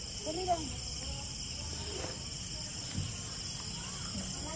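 Insects chirping at night on a farm, a dense steady cricket trill filling the background at low level, with a few faint scattered calls and rustles over it.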